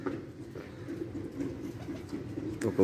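Pigeons cooing in a low, continuous murmur during a flock release, fairly close and steady, with a brief louder burst near the end.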